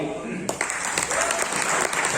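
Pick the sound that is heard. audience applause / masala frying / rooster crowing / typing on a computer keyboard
audience applause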